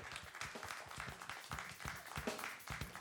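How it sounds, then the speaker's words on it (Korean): An audience at an MBC drama press conference for Two Cops claps to welcome actor Jo Jung-suk onstage: a fairly soft, quick patter of many hands, steady throughout without voices. "여러분 큰 박수로 환영해 주십시오."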